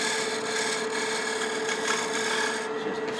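Steady scraping rasp of a point tool shaving a bead into spinning wood on a lathe, continuous and fairly close with no pauses or voices.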